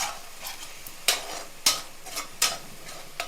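Onions fry in a pan with turmeric and pink salt, a soft steady sizzle broken by several sharp scraping stirs at irregular intervals, close and fairly quiet with no talking.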